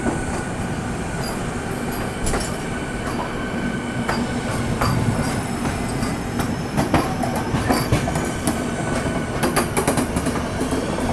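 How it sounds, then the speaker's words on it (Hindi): A Vande Bharat Express rolls past on the adjacent track while a train sits shunting near Delhi, its wheels and coaches producing a steady, loud rumble with rattling, clattering and brief metallic squeals throughout, no talking. "और बगल से क्रॉसिंग हो रही है वंदे भारत एक्सप्रेस के साथ।"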